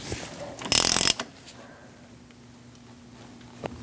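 Wrench clicking as it tightens the front CV axle nut on a 2000-2006 Mini Cooper: a short, loud burst of rapid ratcheting clicks followed by a quiet shop hum and a single faint tap near the end.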